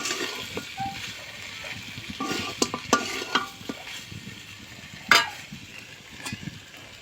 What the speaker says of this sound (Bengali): মশলাগুলোর সাথে গোস্ত ভালো করে কষে নিন